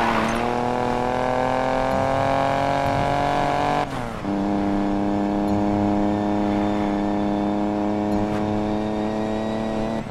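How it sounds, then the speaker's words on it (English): Several race cars in the Need for Speed Payback video game rev their engines loudly and steadily, with a brief dip in pitch partway through before the roar continues. "Better hurry, engines are revving."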